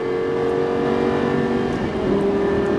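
A Lamborghini Gallardo LP560-4 engine pulls hard under steady throttle, a loud, continuous droning roar that climbs in pitch and holds close by, with no talking over it.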